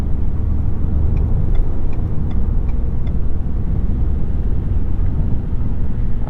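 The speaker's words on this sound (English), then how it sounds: "Obviously no problem getting up to speed here in the F-150." Ford F-150 PowerBoost hybrid pickup, 2021, accelerating up to highway speed, heard from inside the cab as a steady, loud low rumble of engine and road noise with no letup.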